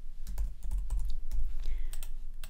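Keys clatter on a computer keyboard as text is typed into a card in the Obsidian Canvas note-taking app, giving an irregular run of close, fairly soft taps and clicks with no voices.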